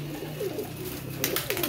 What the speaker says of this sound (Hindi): ये देखें ज़रा कैसे सियालकोटी नयाब कबूतर है माशाल्लाह